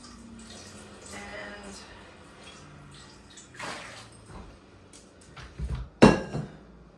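A container is rinsed under running water at a sink while making soap. Low, intermittent trickling builds to a short splash, then a louder, brief gush near the end.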